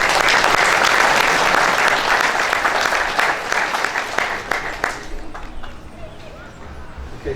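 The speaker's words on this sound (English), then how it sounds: "Big round of applause" Loud, sustained applause fills a memorial gathering, a dense wash of clapping from a large crowd that fades and thins toward the end.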